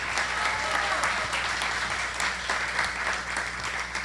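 Audience at a women's history forum in Tabasco applauding a spokeswoman, steady dense clapping throughout at an even level, with no talk over it.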